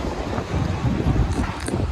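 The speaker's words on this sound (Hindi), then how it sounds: "हवा तेज़ चल रही है, बस ठंडी हवा चल रही है अभी" Strong, cold wind roars across the open courtyard of Masjid al-Haram in Mecca, a loud, continuous buffeting rush that batters the microphone in heavy gusts.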